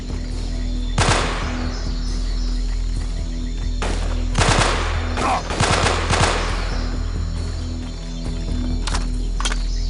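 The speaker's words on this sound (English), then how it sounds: "Lay down some cover fire" Gunfire from squad weapons in the PC game Delta Force: Black Hawk Down, loud bursts of automatic fire in several clusters over a constant engine-like hum, with brief voices underneath.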